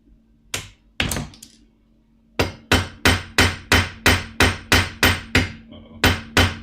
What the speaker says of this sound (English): I peen a lot by sound, just like, you know when you're hitting it in the right spot.